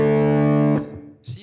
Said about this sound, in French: Je prends ma fuzz et vous voyez que j'ai choisi un preset soft.